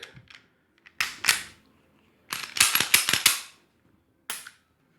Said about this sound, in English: Put your gun back together. Lock it back.